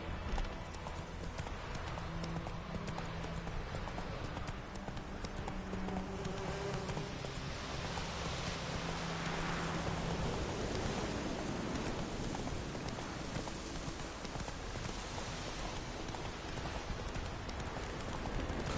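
Roach, the horse in The Witcher 3, galloping in steady rhythmic hoofbeats under light rain, a dense continuous clip-clop throughout with a soft ambient wash.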